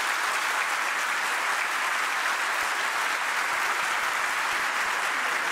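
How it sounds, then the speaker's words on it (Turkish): A seminar audience gives sustained, dense applause, a full unbroken wash of many hands clapping at even loudness with occasional low thumps. "yürek dolusu bir alkış istiyorum sevgili arkadaşlarım için"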